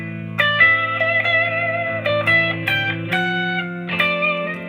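A Stratocaster electric guitar played through effects rings out in sustained, distorted chords and single notes with heavy reverb, with several picked attacks over a continuous humming tone.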